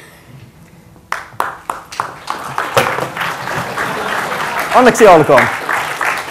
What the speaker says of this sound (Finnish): Aplodit ihan kunnolliset.